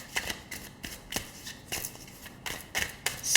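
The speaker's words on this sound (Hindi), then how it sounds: "इसको इन कार्ड्स के साथ ही हम शफल कर लेते हैं" A deck of tarot cards being shuffled by hand, a run of quick riffling bursts and soft slaps repeating in an uneven rhythm, close and fairly quiet with no talk.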